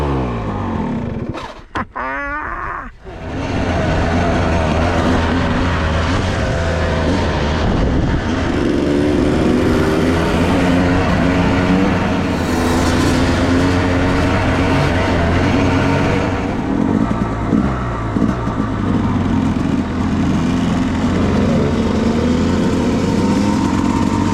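A Yamaha YZ250 two-stroke dirt bike fitted with an electric start kit runs close by, its engine droning loudly and continuously after a brief sputtering start, with rising and falling revs while riding.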